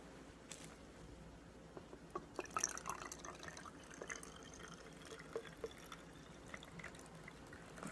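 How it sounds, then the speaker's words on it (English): Water is poured into a plastic bottle already half full of oil, giving a faint, steady trickle with scattered drips and splashes that stays quiet throughout. "Then the rest of it we're going to fill with water."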